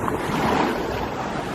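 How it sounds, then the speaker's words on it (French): Ocean waves washing onto a beach, a steady broadband surf roar with gusty wind noise over the microphone, continuous and close throughout, no voices. "Par contre le bruit des vagues, je pense que je m'en lasserai absolument jamais."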